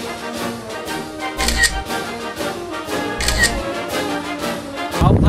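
Camera shutter clicks sound at a roadside photo spot in Pingtung, Taiwan, as a few quick clicks come through under steady, fairly loud background music.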